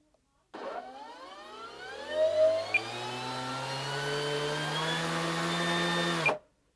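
Electric motor of a HobbyKing Avois Kobuz sports-scale aerobatic RC glider running at half throttle, a close steady whining buzz that spins up, swells briefly mid-run, holds for several seconds and cuts off sharply.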